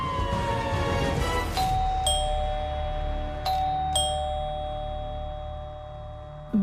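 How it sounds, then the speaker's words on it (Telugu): A two-tone ding-dong doorbell rings indoors, sounding several times in sharp, clear strikes with sustained tones, after a fading siren-like sweep, with no talk. "బెల్ ఎవరు కొడుతున్నారా?"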